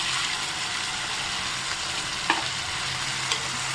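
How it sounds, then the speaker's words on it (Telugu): Chopped tomatoes sizzle steadily in a hot pan for a tomato curry, a continuous broadband frying hiss with a couple of brief stirring clinks. "ఇప్పుడు టమాటో వేసుకోవాలి."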